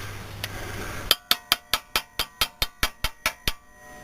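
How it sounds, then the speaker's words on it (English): Metal tapping as an upper ball joint is driven into the upper control arm of a Trailblazer suspension: about a dozen sharp, ringing hammer strikes in a steady rhythm, close and loud after a short quiet start. "The upper ball joint into the upper control arm, like so. I'll take a little tapping."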